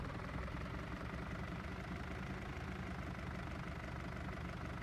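A tractor engine in Farming Simulator 19 idles with a steady, dense low rumble and mechanical knock, running continuously at even loudness with no talk.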